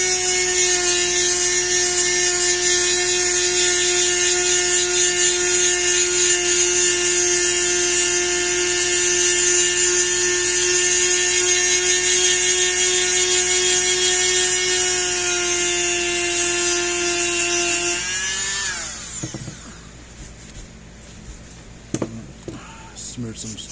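A small electric scrubbing tool polishes the plexiglass needle gauge display of a Parmak Solar Pak 6V or 12V fence charger, its steady loud whine running continuously before cutting off, followed by faint handling knocks.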